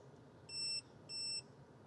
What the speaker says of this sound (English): We're going to hear it beep, and the red light changed to blue.